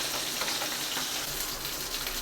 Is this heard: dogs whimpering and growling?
no